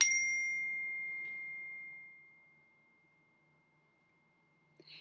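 A music teacher's classroom chime rings once with a clear, bright tone that hangs and slowly fades over about two seconds, close and alone, followed by near silence and a faint soft bump at the end.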